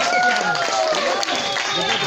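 Audience applause for a performer, steady dense clapping from a crowd filling the space, with voices and a melodic line running underneath throughout.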